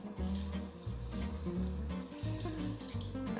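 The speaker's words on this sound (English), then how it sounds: "I'm just gonna pour it over the garlic" Cooled vinegar pickling brine is poured from a pot over garlic in a jar, a gurgling, splashing liquid stream with uneven glugs and bubbling, close and moderately loud, with no speech.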